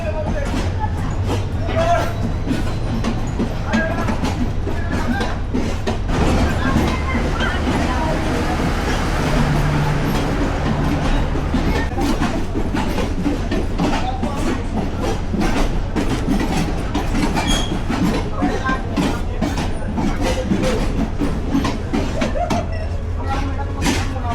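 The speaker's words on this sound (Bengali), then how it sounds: "দুই ঘন্টা লেট নিয়ে 9:58-তে এই যে আমাদের কুড়িগ্রাম এক্সপ্রেস ঢুকতেছে।" The Kurigram Express pulls into Dhaka Airport railway station at night, running two hours late, with a loud sustained rumble, repeated clickety-clack of wheels and station crowd babble, someone talking over the noise.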